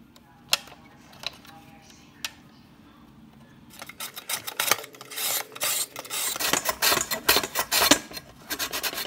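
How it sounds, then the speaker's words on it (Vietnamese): Carrots grated on a hand grater: a few isolated taps at first, then loud, close, rapid rasping strokes in a steady back-and-forth rhythm that continues to the end. "Bây giờ thì mình sẽ xài cái này để mình bào cà rốt và mình sẽ gắn vào đây."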